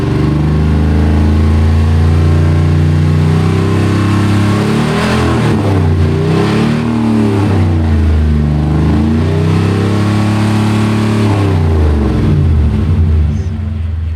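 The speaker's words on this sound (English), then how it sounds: "had Robert's muffler in Salem put Flowmaster Super 44s on it because I wanted some noise" Lowered 1992 Buick Roadmaster with Flowmaster Super 44 mufflers, its engine revving in repeated swells over a deep, steady exhaust rumble, loud and close with no talk.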